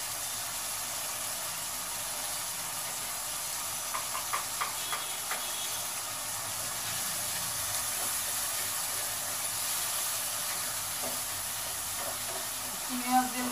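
Prawns sizzling in a pan with garlic and onion, a steady, quiet frying hiss with faint stirring clicks throughout.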